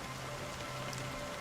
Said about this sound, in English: I could fall asleep to the rain sound. I love it.